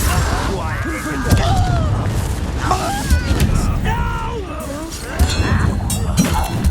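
Incendio fire spell blasts in the Hogwarts Legacy video game during a duel: booming bursts and magical whooshes amid continuous battle noise, with voices talking over the action.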